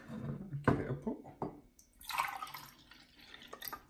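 Liquid pours from a brewer into a cup, with close splashing and trickling bursts, then a softer hissing stream, brief knocks, and a voice speaking faintly partway through.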